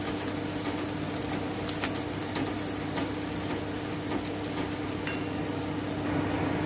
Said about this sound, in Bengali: বেরেস্তাটা ভাজার সময় কিন্তু খেয়াল রাখতে হবে যেন পুড়ে না যায়